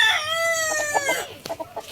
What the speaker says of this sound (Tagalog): bali ito yung mga alaga nating mga manok ngayon